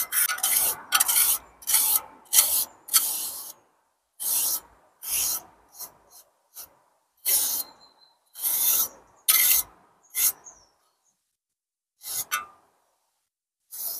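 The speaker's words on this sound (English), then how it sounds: "start smoothing it out with the wide spatula trowel" A wide spatula trowel scrapes and rasps across soft repair mortar on Victorian stonework in a series of short, close strokes separated by brief pauses, with no talking.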